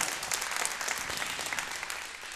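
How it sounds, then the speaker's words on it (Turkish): Studio audience applauding on a Turkish television show, a dense, even wash of clapping filling the whole short stretch at moderate level. "Ona da bir alkış gelsin."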